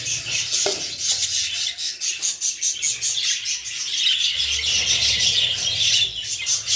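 Budgerigars chirp and twitter continuously in a breeding aviary, with a dense flock of high, rapid warbling calls close by and no talking.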